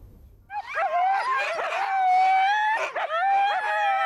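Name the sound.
sled dogs from Karelia barking and howling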